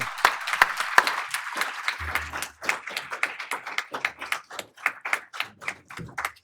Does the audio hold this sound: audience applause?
yes